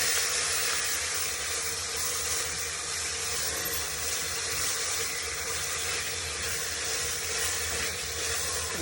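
Pork pieces sizzle in hot ghee and coconut oil for a pork curry, a loud, steady hiss of frying that runs unbroken throughout with no talking.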